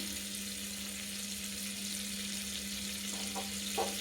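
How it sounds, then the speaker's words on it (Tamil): Butter melting with a little oil in a pan for a mushroom biryani base gives a soft, steady frying sizzle throughout, with a faint low hum underneath and a couple of light clinks near the end. "அந்த பட்டர் மெல்ட் ஆகிற வரைக்கும் வெயிட் பண்ணுவோம்."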